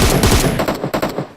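Loud, close automatic gunfire in PUBG Mobile, rapid bursts of sharp cracking shots that rattle out quickly, then thin into a few spaced final reports.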